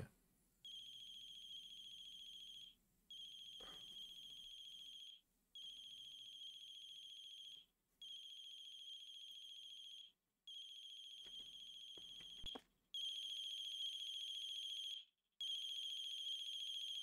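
Phone ringtone during a call to the owner in The Closing Shift video game, a repeating electronic trill in bursts of about two seconds separated by short gaps, clear and steady, with no talk.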